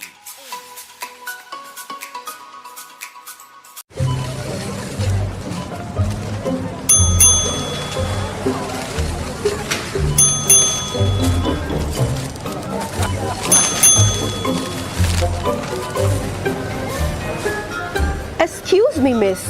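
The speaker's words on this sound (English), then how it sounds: "What's that ding-ding noise? Oh, that's customers collecting points from a frequent shopper program." Ding-ding chimes of shoppers collecting frequent shopper points in a store, several bright bell tones ringing at intervals over busy background noise and talking, after a quiet musical opening.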